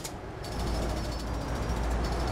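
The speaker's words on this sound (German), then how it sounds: "Da wird ordentlich gebaut hier." Roadworks construction noise in Euro Truck Simulator 2 rattles as a steady, rapid jackhammer-like pounding over the low drone of the truck, moderately loud and continuous.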